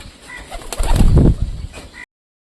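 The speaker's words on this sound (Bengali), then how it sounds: "তো কোনো পায়রা খাওয়ার জন্য নামতেছে না, দেখতে পাচ্ছ।" Pigeons give a short burst of close cooing mixed with a brief flutter of wings, lasting about two seconds before silence.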